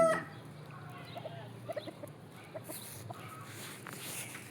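A fighting cock clucks in short, scattered low calls against a quiet outdoor background, fairly close but not loud, with a few brief rustles between the calls.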